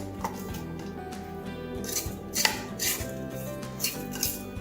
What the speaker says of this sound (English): We'll lower the bowl back down and kind of scrape off the sides.